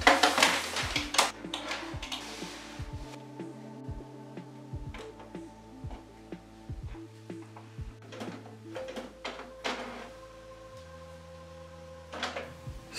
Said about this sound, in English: Plug in the power cable and turn on the printer.